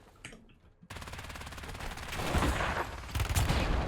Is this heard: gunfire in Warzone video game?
yes